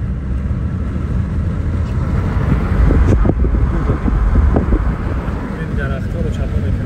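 Strong summer storm wind roars steadily and loud, with low rumbling gusts and buffeting against the microphone, swelling midway through and carrying on without a break.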